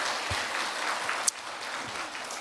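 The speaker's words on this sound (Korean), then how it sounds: "하나님께 감사와 영광의 박수." A church congregation claps together during a Friday worship service, a dense, even burst of applause lasting a couple of seconds, fairly close and loud with no talking over it.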